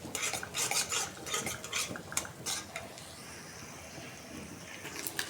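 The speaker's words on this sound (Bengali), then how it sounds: "ডিমটা দিয়ে দিচ্ছি, ভাইজে দেবো ভালোভাবে। তারপরে এক একে মশলাগুলো সব দিয়ে দেবো।" Utensil scraping and clinking in a pan as egg with onion and spices is stirred and fried, a close, steady rattle of stirring with faint sizzle, no talking.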